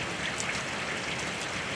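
Steady pouring rain in the Tennessee mountains, a dense even hiss of falling water with scattered drop patters, close and constant with no voices.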